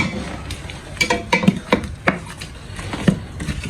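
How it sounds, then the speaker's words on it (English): A spoon stirs meat filling for samosas and spring rolls in a metal pot, producing irregular clinks, knocks and scrapes close by with quiet gaps between them. "I will just give it a quick stir."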